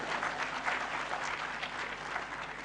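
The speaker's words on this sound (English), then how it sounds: "you should clap for me, Annie." Soft, continuous audience clapping at a university student-industry conference, a steady wash of applause heard from some distance, fairly quiet and unbroken.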